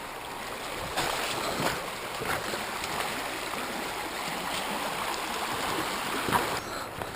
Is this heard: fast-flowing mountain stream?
yes